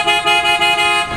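An aftermarket horn on a Ford Ranger Raptor sounds in a few loud, close, rapid honks with a steady blaring tone, bursts pulsing almost continuously.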